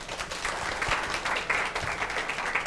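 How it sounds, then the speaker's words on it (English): Applause from a conference audience at the close of a talk on LGBTQ substance abuse, a dense, steady wash of many hands clapping close by for the whole stretch. "I know you gave my applause"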